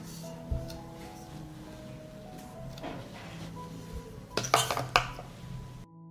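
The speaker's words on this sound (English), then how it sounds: "I put the jars in the pot" Glass jars set down into a deep pot lined with a cloth, giving a few muffled clinks and knocks, the loudest clustered near the end against a quiet kitchen background.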